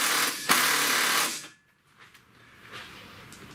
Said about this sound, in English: Go ahead and tighten that up now.